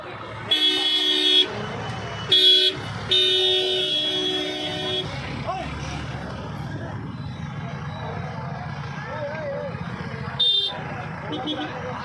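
The district magistrate's and SSP's official cars drive past at an inauguration event in Aligarh, Uttar Pradesh, with several short horn toots over steady road and crowd noise and people talking nearby.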